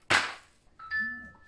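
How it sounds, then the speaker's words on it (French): A mobile phone notification goes off: a short bright electronic chime of a few ringing tones, heard close after a sharp sudden noise, in an otherwise quiet room. "Vous pouvez pas mettre en silencieux son putain de téléphone."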